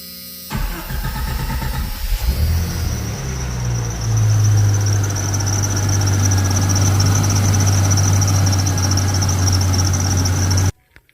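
A Nissan S15 engine starts with a brief crank and settles into a loud, steady run inside a shop, holding an even drone with a faint high whine above it until it cuts off abruptly near the end.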